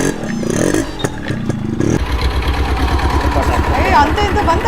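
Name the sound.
tractor engine running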